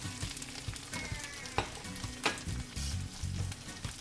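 Cabbage rolls fry in olive oil over moderate heat, a close steady sizzle broken by sharp crackles and the scrape of stirring.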